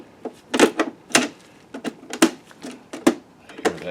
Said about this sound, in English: Hear that door switch.